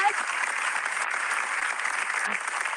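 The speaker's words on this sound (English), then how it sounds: "Look at all the people clapping." An audience applauds at a talk-show style gathering, a dense, loud, sustained wash of clapping from many hands that holds steady throughout.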